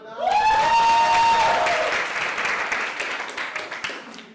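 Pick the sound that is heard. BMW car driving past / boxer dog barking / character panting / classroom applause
classroom applause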